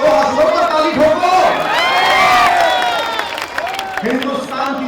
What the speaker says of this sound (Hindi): हंसो पर ताली ठोको।